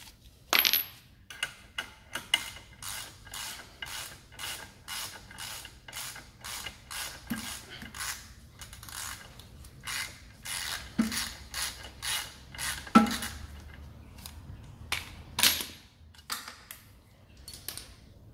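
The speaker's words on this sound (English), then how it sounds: "So what we need to do now is remove our timing tool." Timing locking tool being worked free from an Alfa Romeo 159 / Brera 2.4 diesel engine during a cambelt change: a long run of quiet, close metallic clicks, ticks and small clunks at an irregular rhythm, with no talking.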